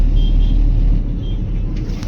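A car drives at night on a busy road leaving Jamnagar, with a steady loud engine and road rumble close by and no talk.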